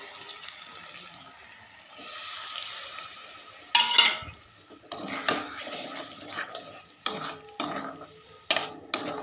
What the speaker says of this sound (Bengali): এটাকে ভালো করে আরও 5 থেকে 6 মিনিট মতো একটু কষে নেব